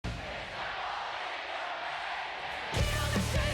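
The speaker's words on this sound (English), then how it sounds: "the crowd is loving it" A concert crowd cheers and roars steadily at a show, then loud music cuts in near the end.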